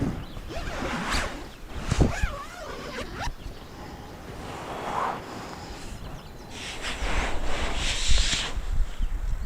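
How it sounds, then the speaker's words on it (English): A zipper slides around the mesh bug screen of a camping tent on an island, a close, scratchy zip interrupted by rustling and soft fabric handling, with no talk. "It zips around the outside."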